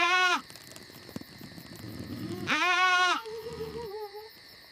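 Two loud, wavering goat bleats on a farm at night, a short one at the start and another a few seconds later, with a quieter lower cry trailing after and soft rustling in between.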